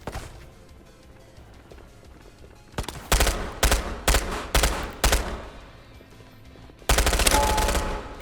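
Gunfire in the VR shooter Ghost of Tabor: several sharp automatic bursts crackle in quick succession, then a longer sustained burst follows after a short pause, all standing out loudly over a low ambient background.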